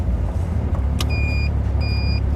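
A Caterham sports car cruising at 70 mph on the motorway gives a steady, low engine and road drone at around 3,500 revs, with two short high electronic beeps sounding over it.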